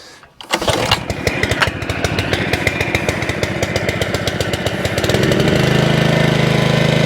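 Honda GXV160 lawnmower engine on a Kaaz mower catching after the pull start, sputtering into a fast, loud putter and then settling into a steady running drone, with no talking.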